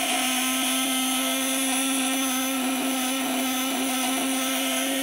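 A small engine, an 8-ounce multi-purpose motor, screams steadily at full throttle, a loud high-pitched whine with a constant tone and no pauses, running alone with no voices.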